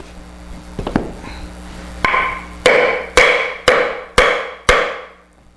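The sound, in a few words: glued carbon fiber rod and steel chopping into a 2x4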